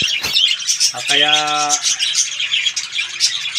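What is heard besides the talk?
pet birds chirping in their cage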